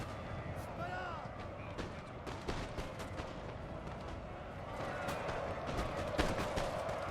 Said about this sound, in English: The artillery are now just trying to take each other out.